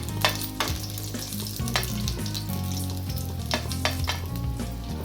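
Garlic cloves, pressed and crushed, frying in already-hot oil, giving a steady loud sizzle and crackle with occasional stirring scrapes beneath a continuous background music bed.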